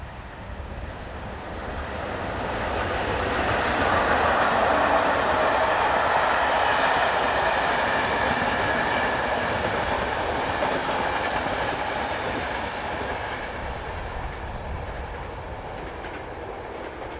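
A Class 362 electric locomotive hauls the 1102 Zvolen to Bratislava passenger service past, as a steady loud rumble and rail roar that swells in the middle and fades slowly over about seventeen seconds.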